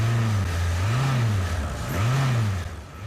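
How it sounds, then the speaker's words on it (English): Newly built Toyota car engines rev loudly and steadily on a factory hot test, the pitch rising and falling in slow swells, with a constant mechanical whir behind them. "This is called the hot test area, and it sounds like the starting grid at a Grand Prix."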